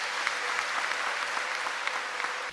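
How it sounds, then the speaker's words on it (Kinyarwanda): A church congregation gathered to welcome a cardinal claps steadily as a dense, continuous wash of many hands, even in loudness and somewhat roomy, with no distinct ululation standing out. "tumuha amashyi n'impundu."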